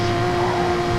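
Onboard engine drone of the CP Racing Porsche race car in a racing video game at Kyoto Driving Park, a loud, steady tone holding at a constant pitch for about a second.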